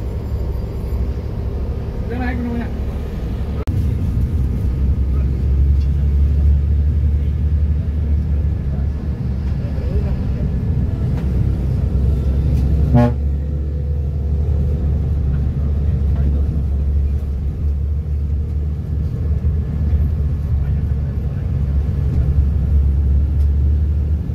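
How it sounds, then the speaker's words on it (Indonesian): Pahala Kencana intercity bus idling while stopped at Bubulak bus terminal, a steady low engine rumble filling the cabin with faint background voices and a brief clank partway through. "bisnya berhenti di terminal Bubulak teman-teman"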